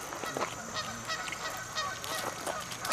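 Waterfowl at Kellogg bird sanctuary crowding in to be fed, with repeated honking calls overlapping close by in an irregular rhythm over outdoor background noise.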